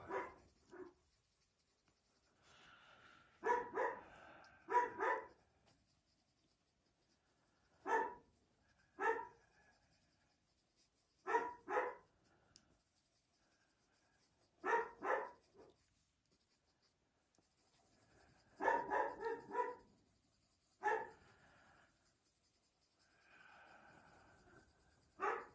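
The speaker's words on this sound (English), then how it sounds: "you just picture Coop getting all of your dogs all riled up" Dogs bark in short, separate bursts every few seconds, sounding faint and somewhat distant over the quiet scratch of coloring on a page.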